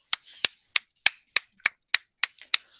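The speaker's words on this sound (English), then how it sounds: "Please, can we give him a round of applause?" Applause for a webinar speaker comes as a single pair of hands clapping sharply and evenly, about nine distinct claps at a steady rhythm, close and clear with no voices.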